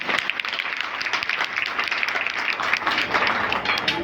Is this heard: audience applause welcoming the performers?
yes